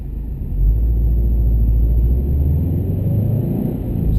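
A 2013 Subaru WRX STI sedan with a COBB Stage 1 tune cruises normally, its engine a low, steady cabin rumble that swells slightly and holds without sharp revving.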